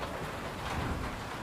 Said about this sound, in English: Looks like hail.